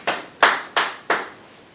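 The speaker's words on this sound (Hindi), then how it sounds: "एक बार जोरदार से तालियां हो" Four loud, evenly spaced claps ring out in close succession at a Rajasthan Parishad gathering, each sharp and distinct with nothing else heard around them.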